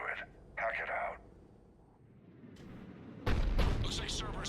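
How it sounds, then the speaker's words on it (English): A Cerberus cannon fires in the video game Mass Effect 3: a heavy, broad boom breaks in late and rolls on as dense rumbling battle noise, after quieter ambient game sound and a faint radio-like voice. "Looks like Cerberus got that cannon operational, Commander."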